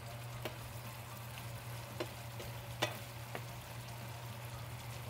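Ground beef frying in a pan, a steady soft sizzle with a few sharp pops and crackles scattered through, heard up close with no talking.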